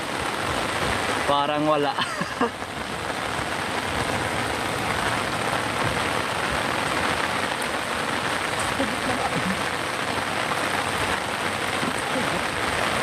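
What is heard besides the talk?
heavy rain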